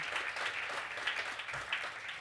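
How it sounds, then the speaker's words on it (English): Applause from the audience at a World Malaria Day 2022 event, a steady, moderately loud spread of clapping that lasts the whole moment with no speech over it. "I think we deserve to give that a round of applause."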